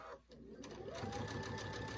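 Sewing machine stitching scalloped binding around the curved edge of a quilt, a steady rapid needle hum that starts after a brief pause and runs on, close and fairly quiet.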